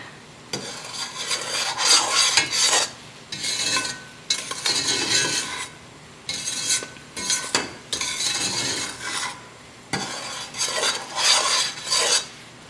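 Repeated bursts of scraping and stirring sugar in a boiling steel pot, a few seconds each with short pauses between, close and fairly loud with no talking.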